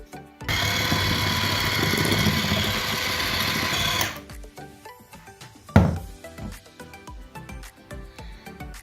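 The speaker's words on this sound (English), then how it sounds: "To make things easier, I am going to use an electric whisk." An electric whisk beats granulated sugar in a home kitchen, a steady loud whirring for about three and a half seconds. It then stops, followed by quieter clinks and one sharp knock.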